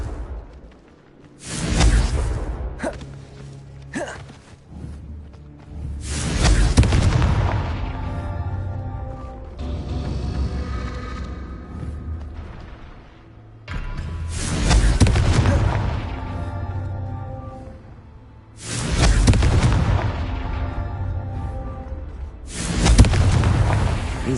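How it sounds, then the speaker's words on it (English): Confringo fire spells from Hogwarts Legacy burst repeatedly in loud whooshing booms, several blasts spaced a few seconds apart with rumbling tails and crackle between them, no talking. "Confringo."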